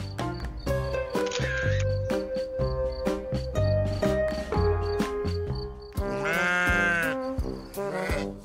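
Sheep on an organic farm in the Orne bleat repeatedly, several loud, close, wavering cries that overlap one another, with rhythmic clicking and shuffling noise beneath.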